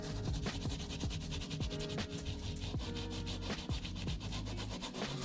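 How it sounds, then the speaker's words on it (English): A Dremel rotary tool sands old glue off worn Jordan 3 sneakers, giving a close, continuous abrasive grinding and rubbing with a steady motor hum underneath and no pauses. "Using a Dremel tool, we'll sand down the old glue."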